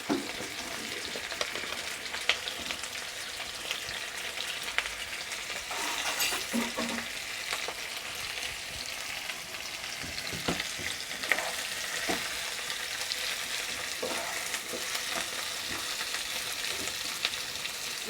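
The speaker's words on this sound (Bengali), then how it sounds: "পেঁয়াজটা একটু ভাজা ভাজা হবে" Onions fry and sizzle steadily in a pan for a cooking dish, with a constant hiss broken by scraping stirs and light clinks of the spoon against the pan, close and fairly loud, with no talk.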